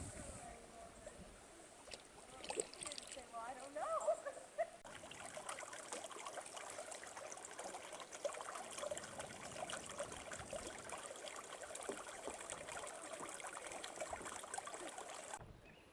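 Spring water trickles and bubbles at the Spring Creek headwaters, a faint, continuous gurgling and babbling flow heard outdoors with soft movement around it.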